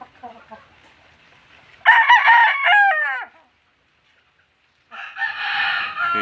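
A gamefowl rooster crows loudly and close, one full crow followed by the start of another after a pause, with softer clucking before it.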